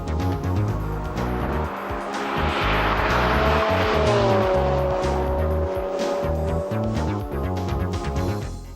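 Ford RS200 rally cars lap the Pembrey circuit in October 1990, engines roaring loudly and close with rising and falling revs, gear changes and a brief tire squeal as they pass.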